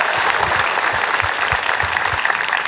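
Audience applause at an Indonesian political talk event in 2009, a dense, steady wash of clapping from a large crowd that fills the whole stretch without speech.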